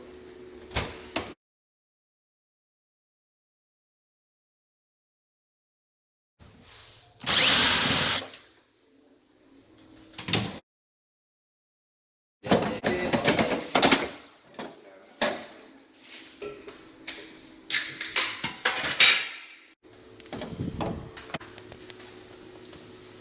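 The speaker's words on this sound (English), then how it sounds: "First, we're going to remove the grill." Metal grille being taken off a microwave oven that has a stuck light, with scattered clattering, scraping and brief whirring bursts of tool work, separated by long stretches of silence.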